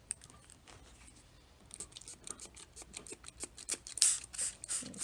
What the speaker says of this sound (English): Just gotta remember to peel off the plastic on top